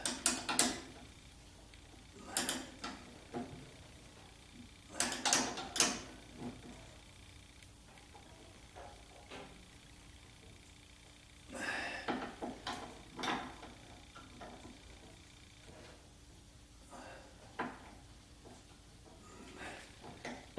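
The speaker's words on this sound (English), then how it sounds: "That's just the ball joints on the tie rod ends turning." Ball joints on the tie rod ends of a 1976 Corvette restomod turning during wheel alignment, giving a series of faint mechanical clicks and ratcheting taps in scattered bursts, close by in a quiet garage.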